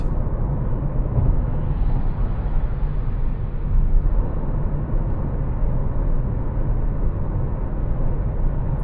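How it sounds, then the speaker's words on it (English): Steady roar of tires on really rough asphalt inside a 2026 Dacia Sandero Stepway, 1.2 ECO-G 122 HP, cruising at 100 km/h at night; a constant low broadband rumble with no talk. "what I can mostly hear are the tires or the really rough asphalt"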